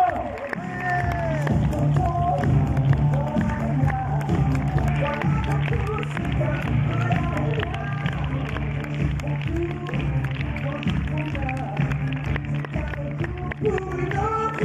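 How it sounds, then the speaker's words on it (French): Audience at a French film premiere applauding and cheering while upbeat music plays and a presenter speaks over the crowd, with clapping sustained throughout. "on les applaudit bien fort"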